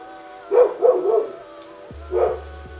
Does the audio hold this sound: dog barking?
yes